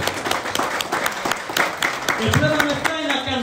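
A church congregation claps in rapid, uneven applause, loud and close, with voices and a held musical tone rising beneath it toward the end.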